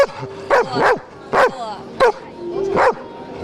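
A trained rescue dog barks on command, giving several sharp, loud barks spaced across a few seconds, with a few softer yips and whines between them.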